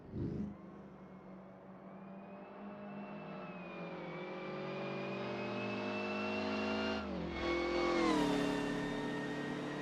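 Vintage Bugatti race car, number 28, at the 1933 Eläintarhanajot street race, its engine revving with a rising, sustained tone that swells loudest near the end, with no voices.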